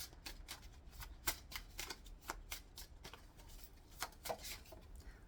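Tarot cards shuffled and drawn from a deck, a quick series of crisp riffling flicks and soft snaps in an irregular rhythm, close and fairly quiet, with no talking.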